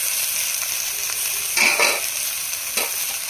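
Fish dropped into hot oil sizzle steadily in a pan, a constant close hiss with two brief louder bursts as pieces are added and stirred.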